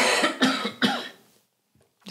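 Three sharp coughs in quick succession from a nearby person, fairly loud and dry, followed by near silence and a faint trailing breath sound.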